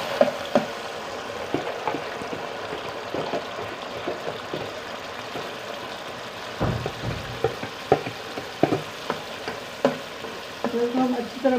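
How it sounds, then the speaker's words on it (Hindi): Curdled milk frying in hot oil for halwa, a continuous crackling sizzle punctuated by repeated scraping and stirring knocks, close and fairly loud, with no talk. "अब हम ये दूध डालेंगे जो फट चुका था उसको। अब इसको हम भूनेंगे।"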